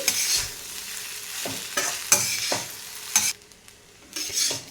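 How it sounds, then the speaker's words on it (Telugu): Cooked rice being folded and mixed in a pan for lemon rice, with a spoon scraping and clinking against the metal in irregular strokes and a soft sizzle underneath, close and fairly loud, no talking. "ఇలా చక్కగా కలిపేసుకోవాలి"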